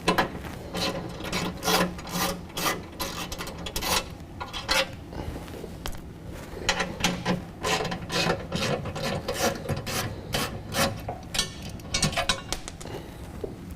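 Ratcheting wrench backing out 15 mm bolts on the frame of a 2017 Ford F-250 Super Duty: close, rapid rasping clicks in irregular bursts with short pauses between strokes, continuing throughout.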